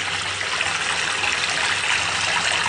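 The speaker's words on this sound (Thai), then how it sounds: "อ่างอาบน้ำนะครับ ระบบน้ำนั้นนะครับค่อนข้างที่จะ แน่นอนนะครับน้ำไหลแรงนะครับ" Strong running water pours steadily from a bathtub tap in a hotel bathroom in Yangon, Myanmar, a continuous broadband rush with no talk over it.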